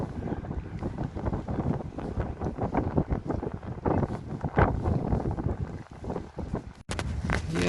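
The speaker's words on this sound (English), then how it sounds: "Oh, windy. Very windy." Strong wind gusts at a lake in Algonquin Park near a docked kayak, buffeting the microphone in loud irregular rushes over about eight seconds, with water lapping beneath.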